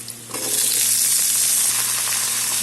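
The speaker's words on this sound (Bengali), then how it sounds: "পেঁয়াজটা মোটামুটি ভাজা হবে, তারপরে আমি মিষ্টি কুমড়োগুলো দিয়ে দেবো" Onion and pumpkin pieces in a hot pan burst into a loud, steady sizzle, which holds strongly to the end with no voices.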